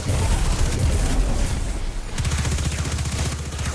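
A void grenade bursting in the game Destiny 2, a dense roaring blast that fills the clip, then settles into rapid pulsing crackle and rumble, loud and close with no talking.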